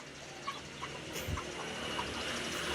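Chickens cluck in a small backyard poultry farm, faint and intermittent over a low ambient hum.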